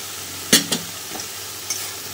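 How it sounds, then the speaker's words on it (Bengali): Ground chilli, cumin, turmeric and pepper cook in oil with ginger and garlic, a steady close sizzle broken by a couple of quick stirring scrapes. "ভালো করে মশলাটাকে আমি কষিয়ে নেব।"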